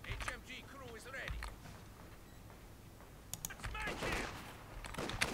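Machine gun fire in Company of Heroes comes in short clattering bursts over a quiet battlefield background, with a voice talking over it.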